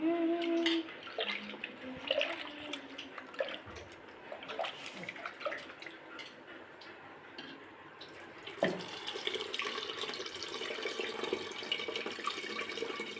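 Water poured into a clay pot of tamarind fish curry, a steady splashing trickle running for several seconds with a brief surge partway, close and fairly quiet.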